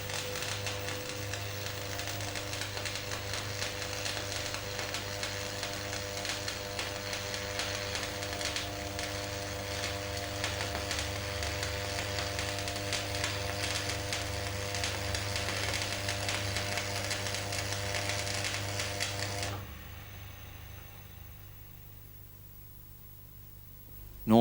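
Arc welding moving too slowly along a joint, a steady loud crackling buzz with an even hum that runs for about twenty seconds before cutting off to near silence.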